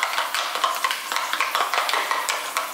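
A spoon stirs a spicy burger sauce made with habanero or Tabasco, a quick run of soft, close scraping and clinking strokes in a steady rhythm with no talk.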